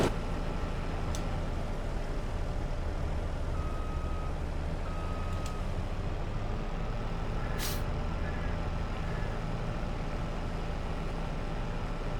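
In Farming Simulator 22, a tractor pulling a trailer backs up with a steady low engine drone, intermittent reversing beeps and a short hiss of air brakes, all fairly loud and continuous.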